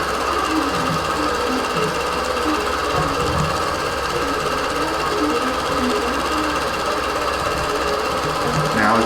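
A quilting machine stitches a Meandering Jasmine pantograph across a quilt with a dense, steady mechanical chatter. The needle drive runs close and unbroken throughout.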